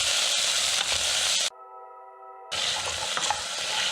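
Steady, loud sizzling of stew beef browning in hot oil in a medium saucepan, broken by a one-second gap filled with a pure electronic tone before the frying hiss resumes.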